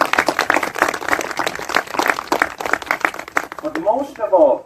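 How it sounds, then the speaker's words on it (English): Audience applause after speakers are thanked at an evening event with a host: dense, steady clapping from many hands fills the room throughout, with a few voices rising as it fades near the end. "Give them a round of applause."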